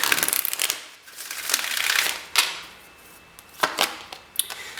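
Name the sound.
tarot cards being shuffled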